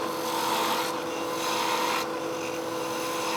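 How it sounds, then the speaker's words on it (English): Woodturning gouge cutting figured maple on a lathe, a continuous close rasping hiss over the motor's steady hum, with slight swells as the cut varies. "I'll continue with the gouge here"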